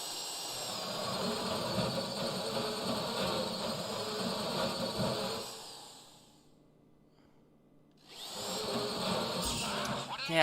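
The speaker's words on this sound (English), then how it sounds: "Keep a steady hand and drill gradually." A drill bores into a safe during a heist in GTA Online, giving a continuous high whirring grind that fades out for about two seconds and then starts up again loudly.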